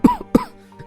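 Two sharp coughs from a man choking on smoke indoors, close by, about a third of a second apart, followed by a faint wheeze.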